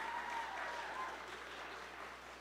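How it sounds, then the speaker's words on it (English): Steady audience applause at a poetry recitation contest, a continuous patter of clapping across the whole stretch that eases slightly toward the end, with faint voices in the room underneath. "We can definitely be applauding."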